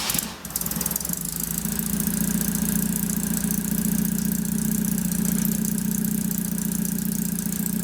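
A Saab Sonett engine idles steadily and close by after a brief knock at the start, running smoothly with a slight rattle and no voices over it.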